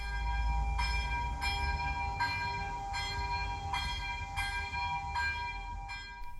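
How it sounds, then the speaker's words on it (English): A small bell on a LEGO model church rings in a steady repeated pattern, about eight evenly spaced strikes, bright and clear over a low background hum. "if I pull on that like this, then up here on top the bell rings."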